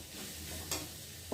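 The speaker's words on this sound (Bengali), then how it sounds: "দেখো আমি এখন ডিমটাকে দিয়ে দিয়েছি আর ভালোই ভাজা ভাজা হয়ে গেছে" Egg and potatoes fry and are stirred in a pan, a steady soft sizzle with a brief scrape of the spatula midway and a clunk at the end.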